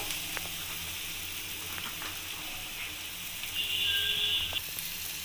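Soft, steady sizzling of vegetables frying in a pan, a faint continuous hiss with a few small clicks.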